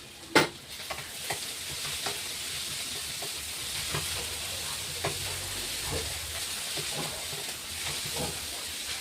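Steady sizzling and crackling of ridge gourd frying in a pan, with occasional clinks of a utensil stirring, close up and continuous.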